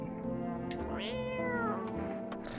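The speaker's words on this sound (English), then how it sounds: "Cat." A cat in the video game No, I'm Not a Human meows clearly and close, a drawn-out rising-and-falling call over a low background hum with a few faint clicks.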